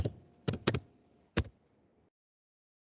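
A few quick keystrokes tap on a computer keyboard close by, a small cluster of clicks followed by one more and then silence.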